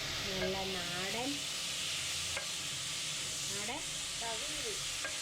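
Capsicum sautés in a pan for a home-style curry, giving a steady close sizzle and hiss as it is stirred, while a voice talks over it.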